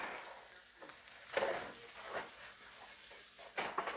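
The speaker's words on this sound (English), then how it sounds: "And then the rice goes back in. All right, mix everything up." Fried rice being stirred and mixed in a hot pan on a stovetop with eggs, a steady soft sizzle and frying hiss with scraping stir strokes, fairly quiet and close, no talking.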